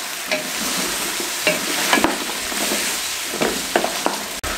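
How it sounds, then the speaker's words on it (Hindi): Beef frying with ginger, green chilies and chopped tomatoes, stirred steadily in a pan for Eid beef pulao, with a continuous sizzle broken by repeated scraping strokes of the spoon, close and fairly loud with no talking. "साथ में टमाटर चॉप किए हुए शामिल कर देंगे और अच्छे तरीके से गोश्त की भुनाई कर लेंगे।"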